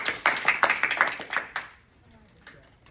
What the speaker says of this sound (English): clap it up for yourselves one more time, please.